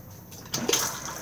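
Cassette toilet in a 2020 Benimar Mileo 286 motorhome flushing after a lever is used and a blue button pressed, a sudden close rush of water that swells briefly and then keeps running.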